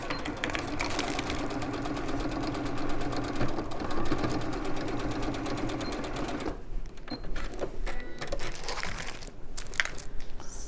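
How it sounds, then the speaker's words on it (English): A sewing machine stitches a quarter-inch seam in a fast, steady mechanical rattle. The running stops partway through, and a few handling taps and rustles follow. "I'm going to open mine and I'm going to sew it again at a 1/4 inch"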